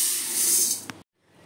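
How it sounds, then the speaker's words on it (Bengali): Rice is washed under running water in a home kitchen, a steady close rush of water that cuts off abruptly about a second in, leaving near silence. "চালটা ধুয়ে রাখি।"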